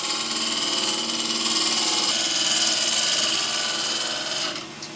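Bowl gouge taking a light cut on a wood lathe, a steady broadband shaving hiss with a whirring tone running continuously, close and fairly loud, easing off near the end.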